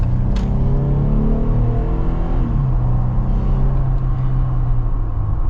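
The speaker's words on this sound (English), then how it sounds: "Let's finally get our acceleration here with the Xtreme Recon." Jeep Wrangler Xtreme Recon accelerating, a deep rumbling engine note rising in pitch, then dropping at a gear change and settling into a steady drone under road noise, with no voices.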